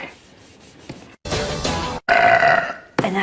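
A woman with an upset stomach lets out loud, rasping belches in three long bursts separated by brief pauses, close to the microphone.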